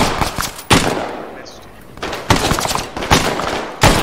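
Rapid bursts of gunfire in a military shooter game, loud sharp volleys repeating several times at close range, with brief quieter gaps between bursts.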